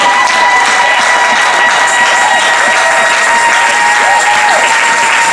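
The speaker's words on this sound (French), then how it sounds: "on acclame un peu fort le Seigneur maintenant" A church congregation acclaiming the Lord, a dense, loud, continuous wash of applause and cheering from a large crowd, sustained without a break and with no clear speech.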